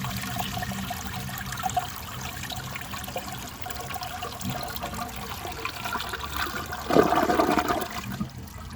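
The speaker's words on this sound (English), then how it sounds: "going to wait for that tank to refill and then see if it can take a washcloth" A 1974 Borg Warner toilet flushes a washcloth, a loud, close whooshing rush of water with a surge partway through, settling into gurgling and trickling as the bowl drains.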